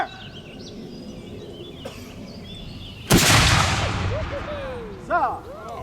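A militia musket volley erupts as one loud, sharp crack with a long rolling echo that fades slowly, heard outdoors after a stretch of quiet background noise.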